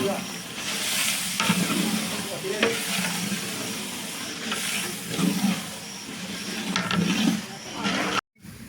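Meat stirred and fried in a pot in a village kitchen in Azad Kashmir: continuous loud sizzling and hissing broken by periodic stirring scrapes, ending in an abrupt cut to silence.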